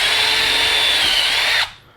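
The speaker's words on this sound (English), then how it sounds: "gotta drill that one out too then" A power drill bores out a battery terminal connection during a Club Car DS golf cart LiFePO4 battery conversion, one loud continuous whine close by that cuts off sharply near the end.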